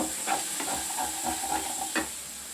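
Green chillies frying in a pan where paneer was heating with butter, giving a soft, steady sizzle with several light stirring scrapes, fairly quiet and without talk.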